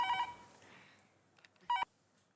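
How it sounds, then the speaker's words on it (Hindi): Two short electronic phone tones sound a moment apart, faint and thin, with quiet room noise between them. "एक मिनट, फोन आया।"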